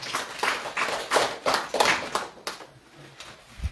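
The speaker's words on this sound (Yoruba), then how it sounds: "ẹ bá mi fún wọn ní àtẹ́wọ́" Applause from a congregation at a Yoruba traditional worship service in Ejigbo, Osun State, with rapid claps swelling and fading in several bursts before thinning out near the end.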